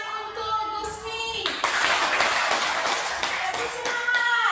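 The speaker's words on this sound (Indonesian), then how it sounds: "Tepuk tangan untuk Gusmi." Classmates applaud a student in a classroom lesson, a burst of many children's hands clapping that swells in after a teacher's voice and continues loudly to the end.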